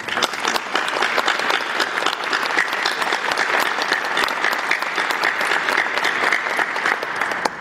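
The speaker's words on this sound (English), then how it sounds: "Please join me in applause for his service and the sacrifice of all others like him." An audience applauds steadily at a retirement ceremony, a dense, even wash of many hands clapping that holds for the whole stretch with no talk over it.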